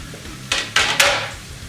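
Onions and garlic sautéing in about two tablespoons of vegetable oil in a pot, heard as three quick, close bursts of hissing sizzle with a clink of utensil against the pot.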